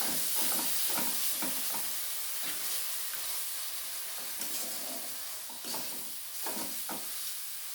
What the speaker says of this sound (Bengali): ভালো করে মশলাটাকে আমি কষিয়ে নেব।